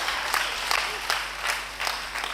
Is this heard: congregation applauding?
yes